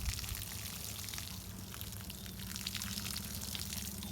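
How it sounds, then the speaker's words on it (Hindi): Water gently poured onto freshly planted methi seeds in a village garden, a soft continuous trickle and splatter, fairly faint and steady with no voices. "अब इसमें हम पानी डालेंगे"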